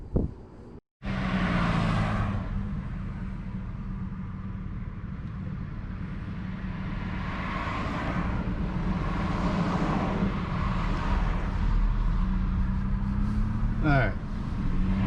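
A 2017 Chevrolet Colorado V6 fitted with an S&B cold air intake drives along, its steady engine drone and road rumble holding loud and constant after a brief dropout near the start, with wind noise and a short rising whine late in the clip.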